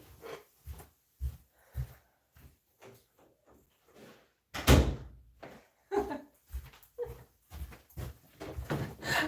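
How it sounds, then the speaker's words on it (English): A door is closed indoors with a solid thud midway, surrounded by scattered softer bumps and knocks nearby. "Let me close my door."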